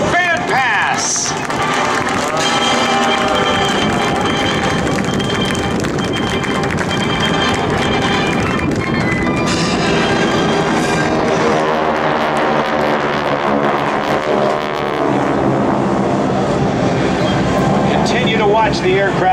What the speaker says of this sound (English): all six aircraft in line abreast, setting up for their salute to all of you here at the Joint Service Open House